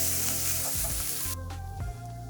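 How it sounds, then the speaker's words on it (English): Ginger garlic paste hits hot oil in a pan and is stirred. A loud, hissing sizzle crackles right up close for a couple of seconds. "Let's go ahead and add our ginger garlic paste."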